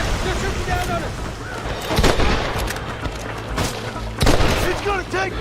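Gunfire from a shootout in the Western video game Red Dead Redemption, with two heavy booming shot bursts over a dense crackle of battle noise and background voices.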